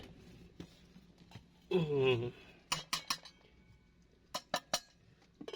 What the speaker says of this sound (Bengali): এই ঢাকনা দিয়ে দিলাম